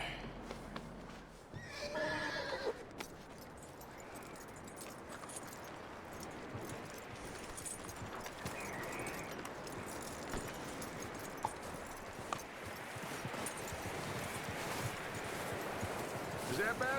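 Horse in the video game Red Dead Redemption 2: a loud whinny at the start, then steady clip-clop hoofbeats and tack jingling over an outdoor ambience, with a voice speaking briefly.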